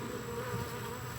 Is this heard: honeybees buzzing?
yes